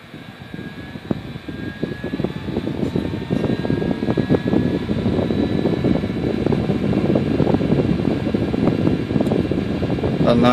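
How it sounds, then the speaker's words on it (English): A Delta PFB1212UHE high-speed fan spinning up at its low power setting gives a steady, loud whooshing roar that builds from a brief quiet start and holds evenly, with a faint tonal whine above the broadband rush. "My favorite part about this fan is it has a wind-up period, as you'll see soon enough. This is me kicking it to low power."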